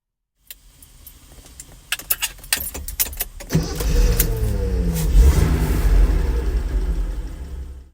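A 1972 Datsun 240Z with a 4-speed manual and separate choke cranks with keys jangling, then fires up and settles into a loud, steady idle with a brief rev, close by.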